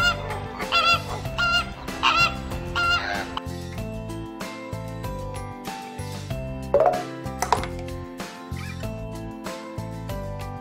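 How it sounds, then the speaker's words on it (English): A flamingo gives short, goose-like honking calls, a brief burst near the start and another later, set over a bouncy children's music backing. "Flamingo."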